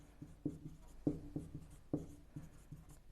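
Someone writing on a board during an income tax lecture: sharp taps and short scratchy strokes, close and clear, in small irregular clusters with brief pauses between words, with no talking.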